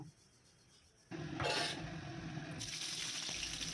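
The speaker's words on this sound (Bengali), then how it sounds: "এবার আমি একটা কুলাতে করে ভাতগুলোর জলগুলো ঝরিয়ে এভাবে ছড়িয়ে রেখে দেবো" Water from boiled rice drains through a winnowing basket while biryani is being made, starting suddenly as a close, steady pouring splash and rush that continues unbroken after a quiet moment.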